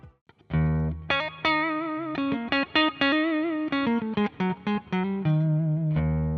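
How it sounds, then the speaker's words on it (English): An electric guitar through a GE200 Pro hall reverb effect plays a melodic phrase of distinct notes, each ringing out with a broad, spacious reverb tail. "I would like to have a reverb in a huge space. For example, hall reverb."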